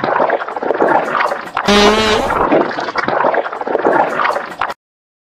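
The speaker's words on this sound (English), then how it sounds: "then flush all the toilets" Loud, continuous gurgling and rushing water from flushing toilets fills almost five seconds, with a brief bubbly burst in the middle before the sound cuts off abruptly.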